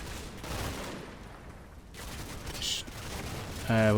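Machine gun fire in the Normandy wargame Combat Mission: Battle for Normandy, with scattered, somewhat muffled bursts rattling at middle distance and a sharper, louder crack near the end.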